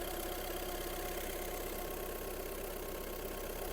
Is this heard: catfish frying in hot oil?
no